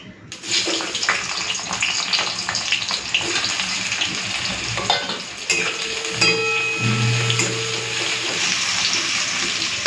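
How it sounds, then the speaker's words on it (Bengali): Chopped onions fry in hot oil in a well-heated kadai, giving a steady, loud sizzling hiss that runs throughout with occasional faint clinks. "পেঁয়াজটাকে একটুখানি হালকা ভেজে নিচ্ছি"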